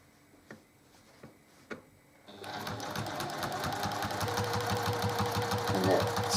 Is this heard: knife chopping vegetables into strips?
no